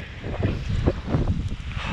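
Wind gusting over open water while kayaking around Mersea Island in winter, a rough rushing buffet on the microphone with irregular surges and choppy splashes, steady and fairly loud throughout.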